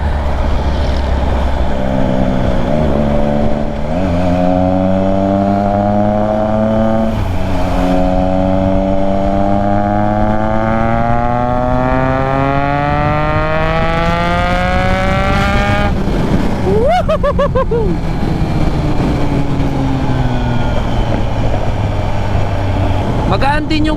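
Triumph Trident 660 motorcycle exhaust revving hard through the gears, the engine note climbing steadily and dropping with each shift, loud and close with constant wind rush.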